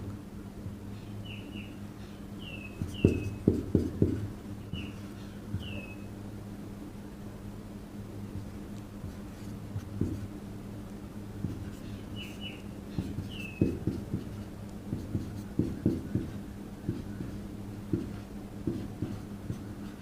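A pen writes out Fisher's formula on paper, with short scratchy strokes in scattered bursts close by over a steady low hum, while birds chirp faintly in the background.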